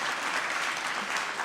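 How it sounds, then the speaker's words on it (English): Audience applause at a film event: a dense, even wash of clapping from a crowd, steady and fairly loud for the whole moment with no talk. "give yourself a round of applause"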